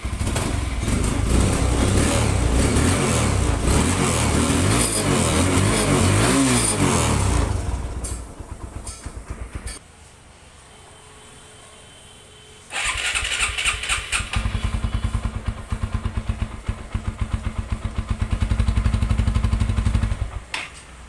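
A TVS Apache motorcycle, a budget used bike, starts up and idles loudly up close, drops away for a few seconds, then fires again into repeated revving that builds toward the end.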